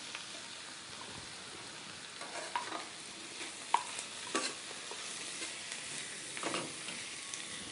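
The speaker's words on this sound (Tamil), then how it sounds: "மறுபடியும் வந்து அந்த ஜீரகமும் அந்த வெங்காயமும் நல்லா இதாகிற மாதிரி மறுபடியும் ஃப்ரை பண்ணிக்கிட்டே இருக்கணும்" Onion and ground cumin frying in a pan for salt chicken, with a soft, even sizzle and scattered scraping stirs throughout, quiet and close.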